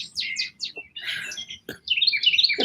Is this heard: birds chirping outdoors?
yes